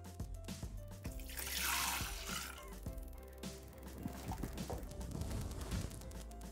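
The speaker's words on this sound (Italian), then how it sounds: "Iniziamo la ricetta mettendo all'interno del boccale l'acqua." Water pours into the mixing bowl of a Thermomix kitchen machine, a soft, quiet splashing gush that swells for about a second in the middle, with faint kitchen hum around it and no talking.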